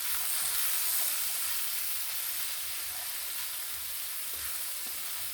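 Cajun sausage and rice skillet stirred after adding smoked paprika: a broad, even sizzle with soft scraping of a utensil, steady and close throughout.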